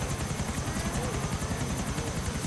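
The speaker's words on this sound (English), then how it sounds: "Helicopters suck." Helicopter in GTA IV, a video game, with a loud, steady rotor chop pulsing rapidly alongside a dense engine roar, close and continuous.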